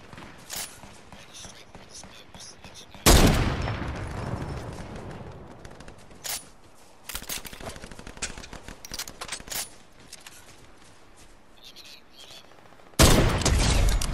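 Sharp gunshots from a Fortnite match ring out in a few loud, separated bursts with decaying tails, mixed with lighter in-game clatter and footsteps between them.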